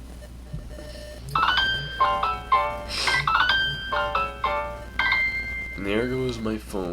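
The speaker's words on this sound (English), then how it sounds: "And there goes my phone." A mobile phone rings with a bright, melodic electronic tone, repeating in short bursts close by during commentary on a team marble race.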